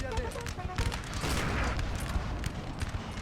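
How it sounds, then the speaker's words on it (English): Cannon booms and musket volleys from a Napoleonic battle in Napoleon: Total War (Ottoman campaign) form a dense, continuous crackle of gunfire with heavier thuds rising through it, loud and unbroken across the whole stretch. "Bloody cannons need to be stopped."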